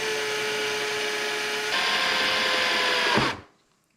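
A power drill with a metal bit bores out a screw, a steady whining motor drone that shifts slightly in pitch partway through, then stops abruptly and falls silent.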